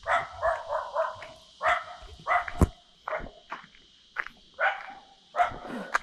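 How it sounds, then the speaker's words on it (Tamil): A dog barks repeatedly in short bursts near a jackfruit tree in a hill village near Salem, the yelps coming in irregular clusters at moderate distance with no talk over them. "இங்கே வரும்போது அங்கே நாய் குலைக்குது."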